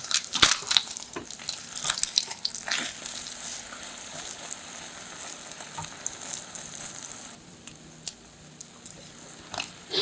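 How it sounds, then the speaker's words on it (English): Eggs fry in hot cooking oil in a pan with a soft, crackling sizzle and scattered pops and spits, fairly quiet and continuous. "Then, heat the cooking oil in a pan. Fry the eggs until cooked and golden brown."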